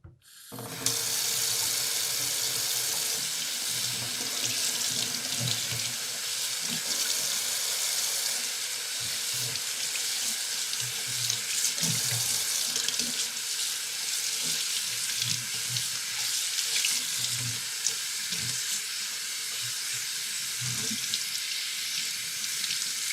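Tap water runs steadily into a sink to soak a towel, a continuous close splashing stream that starts abruptly and continues without pause.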